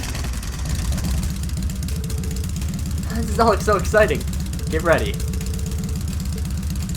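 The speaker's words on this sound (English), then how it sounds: "Alright, I'm gonna start the engine now." Motorbike engine in the Trails of Cold Steel video game idling with a steady low rumble throughout, while a voice talks over it.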